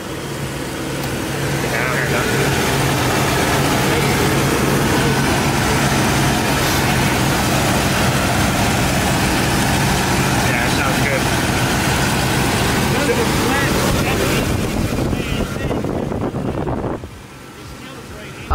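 Ford Mustang Foxbody with a 5.0 V8 running steadily after a start, a loud continuous engine rumble with wind noise that drops off near the end, while someone talks over it.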